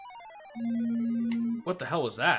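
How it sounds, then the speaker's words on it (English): A mobile phone rings loudly with a steady electronic tone for about a second before a voice breaks in close by. "Is that your phone? Do you hear it vibrating?"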